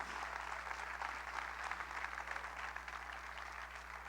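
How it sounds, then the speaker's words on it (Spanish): A church congregation applauds during a service, a continuous, somewhat distant wash of clapping over a low steady hum, with no clear break across its few seconds. "Dale más fuerte ese aplauso al Rey, por favor."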